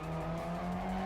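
A car doing a burnout in the racing game Need for Speed ProStreet, with a loud, sustained engine drone and squealing tyres held steady throughout, alone and with no talk.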